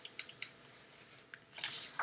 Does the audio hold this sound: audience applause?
no